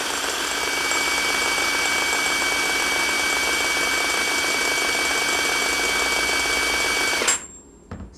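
A Mollar CIW20980 3/4-inch drive impact wrench runs free at full speed in a steady, loud, high-pitched whine, then cuts off abruptly near the end with a short rattle as it spins down.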